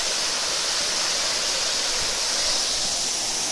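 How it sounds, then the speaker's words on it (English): Natural waterfall with water falling steadily, a broad continuous rushing hiss, close and even throughout with no voices. "Now falling water is falling."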